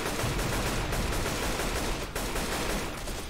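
Continuous gunfire in the video game Left 4 Dead 2, a dense, loud, unbroken wash of rapid shots that fills the whole stretch with no pauses.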